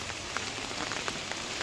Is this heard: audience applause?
no